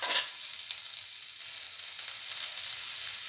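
Ginger hits hot oil in a frying pan, producing a steady, fairly quiet hissing sizzle with a slight crackle throughout and no talk.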